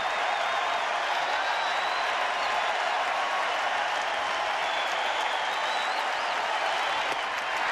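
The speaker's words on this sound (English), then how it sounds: "This capacity Fenway crowd has been waiting to erupt." A capacity crowd at Fenway Park during a Red Sox home game against Seattle cheers and claps in a dense, steady roar that fills the whole stretch, with whistles rising above it.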